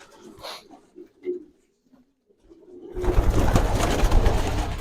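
Pigeons coo in soft, low, throaty bursts at a pigeon show in a village club, several short calls close by before a loud burst of rustling and handling noise takes over.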